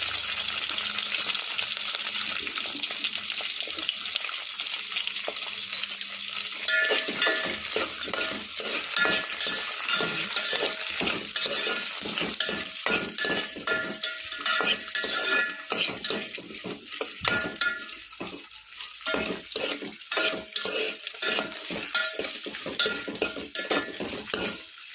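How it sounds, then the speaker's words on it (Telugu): Green chili and onion pieces sizzle in a pan for an Andhra-style tomato rasam while a spoon stirs and scrapes steadily, close and continuous. "ఇప్పుడు ఇందులో పచ్చిమిర్చి ముక్కలు, ఉల్లిపాయ ముక్కలు వేసి ఒకసారి అలా కలుపుకుందాము."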